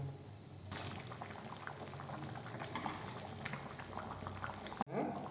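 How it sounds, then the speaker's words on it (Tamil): Thick vegetable kurma curry bubbling and boiling in a pot, a continuous close-up simmering with small pops, ending in a brief clunk. "இப்போ இந்த மசாலா பச்சை மசாலா போகிற வரைக்கும் நல்லா கொதிக்கட்டுங்க"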